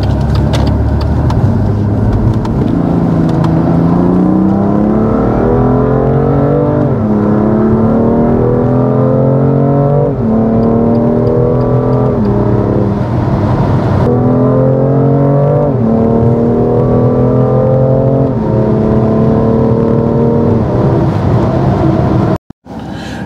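BMW M2 Competition six-cylinder engine heard from inside, loud and steady as it pulls up through several gears, each rising drone dropping back at a shift, ending abruptly with a brief cut.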